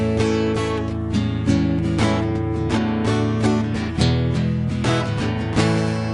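Steady rhythmic strumming of chords on an acoustic guitar, loud and close, with regular downstrokes moving through a short progression.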